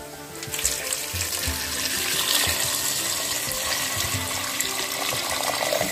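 Water streams steadily from a tap into a cooking pot, about one liter, for several seconds, a continuous splashing rush up close with no talking.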